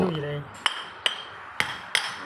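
A hammer drives a bushing into a Kubota L3608SP tractor. A voice is heard briefly at first, then four sharp, close metallic strikes land at fairly even intervals.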